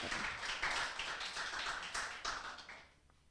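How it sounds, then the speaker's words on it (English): A short burst of audience clapping for the speakers at the close of an informatics workshop, fairly soft and uneven, with scattered individual claps that fade out over the last second. "memberikan round of applause lagi untuk para narasumber dan semua hadirin yang telah ada"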